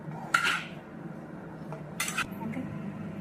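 Cooked dried peas being stirred into a paneer masala gravy in a pot, with a few sharp clinks of a metal spoon against the vessel over a quiet background, no talking.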